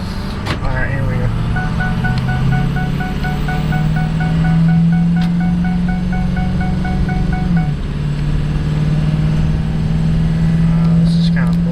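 A 2005 Ford F-250 truck engine holds high revs without upshifting, a loud, steady drone close by that climbs gradually, dips briefly midway, then drones on again.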